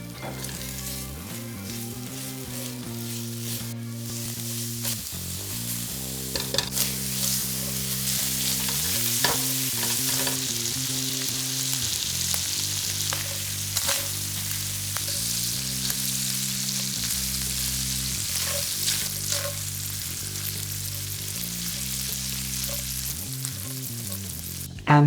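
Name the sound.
sausage frying in a pan with guanciale and black pepper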